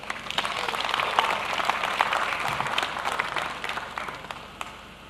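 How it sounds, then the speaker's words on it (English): An audience at an anniversary celebration at the Bomas of Kenya applauds as a company managing director is invited to the podium, a steady dense round of clapping from a large crowd throughout. "A round of applause as"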